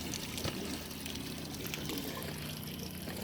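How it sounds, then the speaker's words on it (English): Water draining out of the water heater tank on a Jayco 175RD RV, a steady pouring trickle that runs without a break, close by and fairly quiet, with no voices. "So I'm just letting it all drain out."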